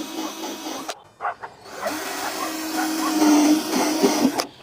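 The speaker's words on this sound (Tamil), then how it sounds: "இப்போ நம்ம மார்க் பண்ணதெல்லாம் ஒரு ட்ரில் மிஷின் வச்சு அப்படியே ஓட்ட போட்டுக்கிறேன்" A handheld electric drill whirs nearby in short bursts, its motor whining up, stopping, then running longer as it bores holes through a plastic water can.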